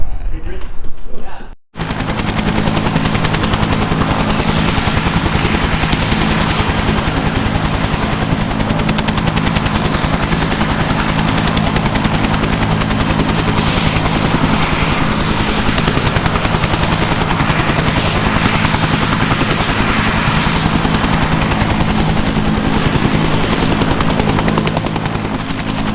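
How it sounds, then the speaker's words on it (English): Helicopter heard loud and close, a dense continuous rotor thumping that runs unbroken for the whole stretch after a brief opening moment. "I know it's a helicopter."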